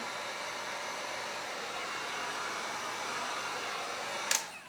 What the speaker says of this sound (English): I am going to go ahead and just use my heat gun to heat it up